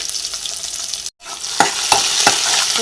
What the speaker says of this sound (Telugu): పచ్చిమిరపకాయలు కొంచెం ఫ్రై అవ్వాలి